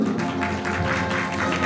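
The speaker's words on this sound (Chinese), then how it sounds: "掌声鼓励。" Audience applause at a press conference in a hotel ballroom in Kaohsiung, a steady patter of clapping hands sustained throughout, moderately loud with a room hum underneath.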